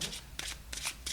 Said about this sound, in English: I am feeling very energetic as I'm shuffling these cards.